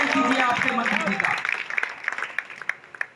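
An audience at a temple inauguration ceremony in Pindarsi village claps for a minister, starting under a voice and thinning into scattered, separate hand claps.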